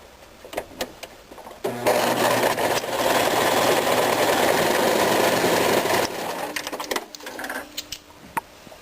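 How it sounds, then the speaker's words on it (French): A sewing machine stitches a fabric loop closed in one continuous burst of fast, even whirring lasting about four seconds, close and loud, bracketed by small handling clicks and taps before and after. "Puis, on va venir fermer le tout à la machine."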